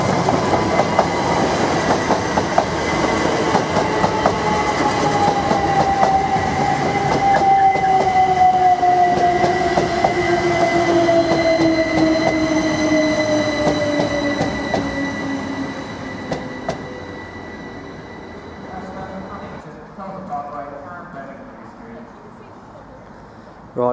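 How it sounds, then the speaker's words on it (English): A London King's Cross service train pulls into platform 2 at Ely station, its wheels squealing and clattering as it slows, with a long descending tone fading as it comes to a stop. "Right, got the 1318 service to London King's Cross, now arriving into platform 2."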